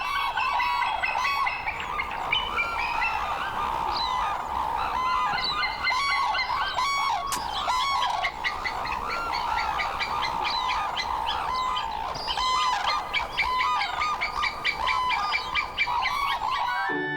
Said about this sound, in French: La grue à couronne rouge est un animal très rare.